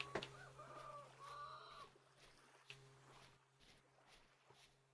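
Chicken clucking in the game Vintage Story: a few short, fairly close squawky clucks in the first two seconds, then fainter scattered clucks and light footsteps over a steady low hum.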